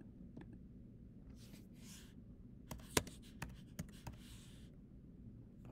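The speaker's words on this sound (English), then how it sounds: "I'm going to write that down." Pen or pencil scratching on paper while noting a physics homework answer, soft intermittent strokes with a few sharper taps, quiet and close against low room hum, no talking.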